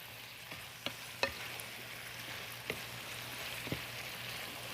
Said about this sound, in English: We're just basically cooking the cauliflower.